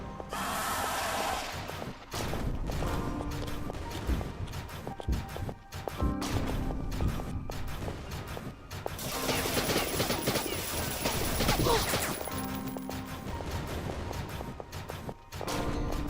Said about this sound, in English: He says casually as he mag dumps a person.